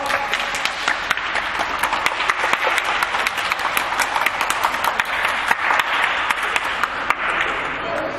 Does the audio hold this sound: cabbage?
no